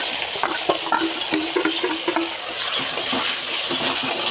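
Cabbage with spice paste of cumin, coriander, turmeric and chilli powders stir-fried in a pan, a close, loud sizzle broken by repeated scraping strokes of a spatula against the metal.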